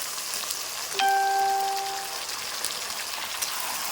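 Chicken pieces dropped into a pan of fried onion and tomato give a steady hiss and crackle of frying throughout, with a brief ringing tone near the start.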